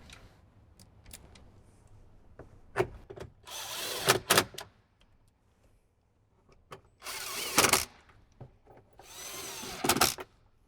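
Short bursts from a power tool driving bolts back into the dash of a 2007–2014 Jeep JK Wrangler, four loud whirring runs separated by quieter clicks and handling noises inside the vehicle.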